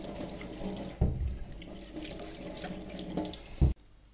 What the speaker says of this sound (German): Erstmal waschen.